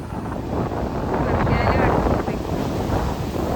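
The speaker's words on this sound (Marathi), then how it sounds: "लय मोठ्या मोठ्या लाटा येतात" Strong ocean waves surging at Chilika beach, a broad roaring wash with heavy wind buffeting the microphone, close and loud throughout.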